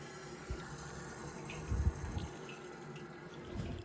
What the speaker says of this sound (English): It's definitely filling up. I can hear the bloody thing.